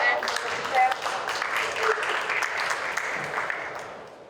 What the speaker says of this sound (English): So let's applause for George and Mr. Chair.